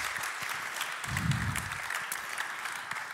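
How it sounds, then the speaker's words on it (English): An audience at a security conference talk on code-reuse attack mitigation claps steadily in a room, a dense, even patter that holds at moderate volume with a brief low thump partway through. "Let's give Ali a warm applause to begin with."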